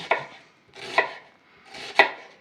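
A knife slicing cucumbers into rings on a cutting board, three separate crisp chops spaced about a second apart, close and clear in a quiet room.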